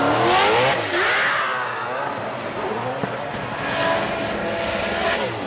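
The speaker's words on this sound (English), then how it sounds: "Look at that. Listen to that car." NASCAR V8-powered Altezza drift car at Suzuka Twin Circuit, its engine roaring loud and close, revving up and down with harmonic sweeps as it drifts, while a commentator talks over it.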